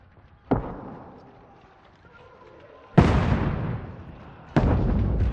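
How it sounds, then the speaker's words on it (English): Three booming explosions in Kingdom Come Deliverance 2, one sharp blast followed by two heavier, longer rumbling bursts with lingering decay between them. "There's some loud explosions."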